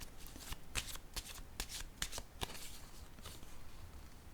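Tarot cards being shuffled and handled, a series of crisp close riffling snaps and flicks at an irregular rhythm, quiet and alone without talk.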